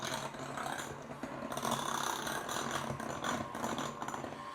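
An electric mixer whirs steadily through pumpkin spice cake batter as dry ingredients are mixed in, giving a continuous close mechanical drone with a faint rattling texture.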